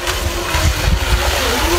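Four motors drive a stainless-steel remote-control fishing boat, giving a steady close engine drone that holds at even strength throughout.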